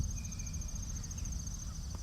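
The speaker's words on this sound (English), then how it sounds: "birds chirping, crickets making their noise" Crickets chirp in a steady, high continuous trill outdoors at sunrise, a faint constant insect drone over low rumbling background, with no talking.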